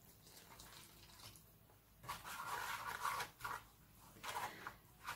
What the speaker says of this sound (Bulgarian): сега ще слагам постепенно вода и ще разтворя така брашното